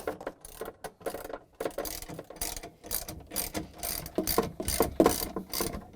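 Rapid, rhythmic ratchet clicks from tightening 10mm bolts on a Samsung refrigerator freezer rail, close and fairly quiet, in uneven bursts with no talk.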